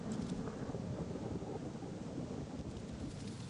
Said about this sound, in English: this thunderstorm is nuts in this game